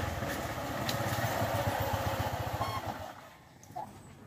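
A new motorcycle idles nearby with a steady low, pulsing engine rumble that fades and drops off toward the end, along with a few faint background sounds.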